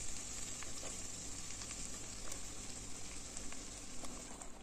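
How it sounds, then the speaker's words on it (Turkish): Mushrooms sizzle in oil over browned tomato paste in a pan, a steady, soft crackling fry with faint spatters throughout and no talking. "Kavrulan salçamızın üzerine şimdi mantarlarımızı atıyoruz."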